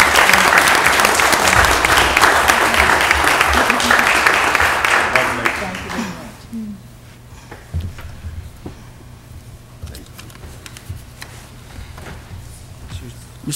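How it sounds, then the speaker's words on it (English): Loud, dense applause fills a city council meeting chamber for about six seconds, then fades quickly into quiet room tone with a few scattered claps and faint shuffling. "Let's give her another big round of applause."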